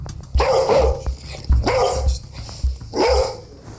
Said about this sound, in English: A large bull terrier.